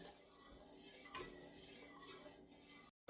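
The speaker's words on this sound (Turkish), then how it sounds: "Şimdi güzelce karıştırıyorum." A spoon stirs milk and orange pudding (muhallebi) in a pot, with soft scraping and light clinks against the metal in a quiet kitchen before the sound cuts off abruptly.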